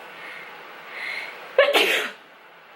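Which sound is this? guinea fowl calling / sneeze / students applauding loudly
sneeze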